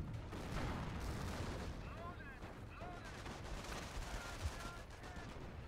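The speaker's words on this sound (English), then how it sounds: "Got a machine gun on both points." Machine gun fire rattles in dense, overlapping bursts during a Company of Heroes 1 one-on-one match, mixed with other battlefield gunfire and rumble, with voices talking over it throughout.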